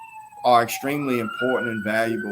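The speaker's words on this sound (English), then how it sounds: "Excuse the sirens." A person speaks steadily while an emergency vehicle siren wails in the background, its rising and falling tone audible beneath the voice.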